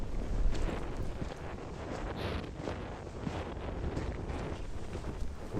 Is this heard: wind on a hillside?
yes